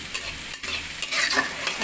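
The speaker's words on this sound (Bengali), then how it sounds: "এই তো পেঁয়াজ দিয়ে দিলাম গরম তেলের মধ্যে।" Onions sizzle and crackle steadily in hot oil at close range, with a brief stir partway through and no voices.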